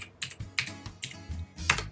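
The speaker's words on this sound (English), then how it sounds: "just type in at the top www.splashtop.com/" Keys clatter on a computer keyboard as a web address is typed, a close, quick run of several clicky keystroke bursts with short gaps between them.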